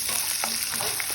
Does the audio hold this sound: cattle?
no